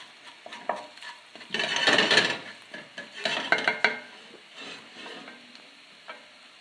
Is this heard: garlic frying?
yes